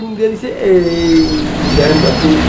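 Large homer pigeons at a pigeon market coo in low, rolling calls, close and fairly loud, with people talking nearby.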